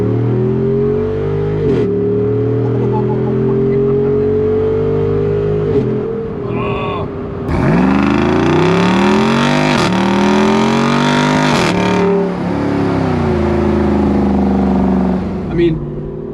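A Jeep Wrangler 392 V8 idles with a deep burbling rumble, then revs hard several times in rising and falling sweeps, loud and close.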